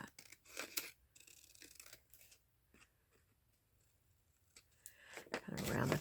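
Paper being trimmed with scissors in a crafting session: a series of short, crisp snips and cuts, close and fairly quiet, with a louder rustle of paper handling at the end.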